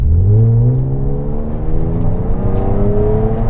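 BMW E36 fitted with a replica Eisenmann exhaust revving up, a loud, close engine note whose pitch climbs steadily across a few seconds with no talk over it.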